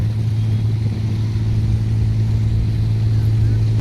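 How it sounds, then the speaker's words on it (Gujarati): A fibreglass fishing boat's engine drones loud and close as it heads out through small waves at Mangrol harbour, a steady low hum that holds without a break. "અત્યારે ઝીણા એવા મોજા આવી રહ્યા છે અને બોટ અત્યારે નીકળી રહી છે. ફાઈબરની બોટ છે આ"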